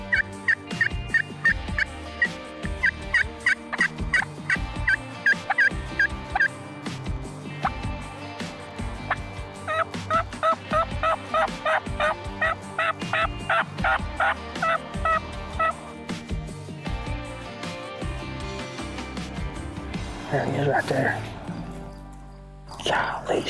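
A hunter works a call imitating turkey hen yelps during a spring turkey hunt with laying, nesting hens nearby. The calls come as repeated, rhythmic series of sharp yelps, fairly close, with pauses between runs.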